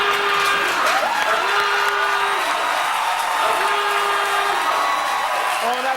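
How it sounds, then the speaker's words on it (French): An audience applauding three improvisers at the end of an improv comedy show, continuous crowd clapping with a few whoops, while a voice with a steady tonal line runs over it. "On applaudit nos 3 improvisateurs de la soirée, Marjo, Boum et Annie"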